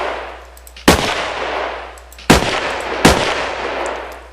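Three loud, sharp gunshots ring out in the post-apocalyptic survival game Worlds: Apocalypse, each a sudden crack followed by a long decaying echo, spaced unevenly over a few seconds with no talking.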